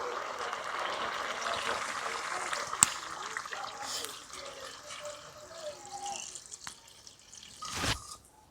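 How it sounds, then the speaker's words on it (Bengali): Water is poured into a pot of browned chicken curry, a soft splashing trickle that fades in and out, with faint kitchen clatter and a louder splash near the end. "এবার পরিমাণ মতন জল দিয়ে দেব।"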